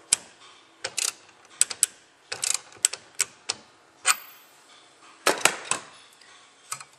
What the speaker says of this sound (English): Let's go ahead and snug up the needle seal assembly.